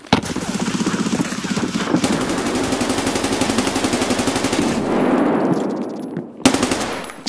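Sustained automatic gunfire in the shooter game Escape from Tarkov, loud rapid bursts rattling almost continuously, with a brief pause and a sharp final volley near the end.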